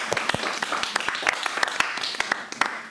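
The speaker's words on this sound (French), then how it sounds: "Là, je vous propose d'applaudir les chercheurs et chercheuses." Audience applause for researchers at a CNRS methodology event, a dense spread of hand claps filling the room steadily for about three seconds without pause.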